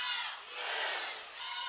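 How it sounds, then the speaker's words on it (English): A softball crowd at a Michigan game cheers and shouts loudly with bases loaded, a continuous roaring swell from the stands that dips briefly and rises again. "The Michigan crowd fired up."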